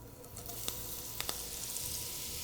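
Melted butter and olive oil sizzle softly in a pan, a low steady hiss with a few faint pops and no talking.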